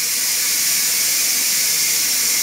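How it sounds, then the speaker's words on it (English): A pressure cooker's release valve vents steam in a loud, steady, close hiss that holds without a break, with no voices over it. "I'm going to click this thing and all the steam will come shooting out."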